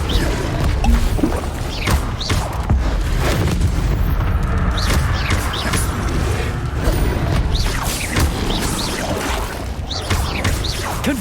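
Incendio fire spell blasts in Hogwarts Legacy, a dense run of booming, crackling impacts and clattering debris over a constant loud battle roar.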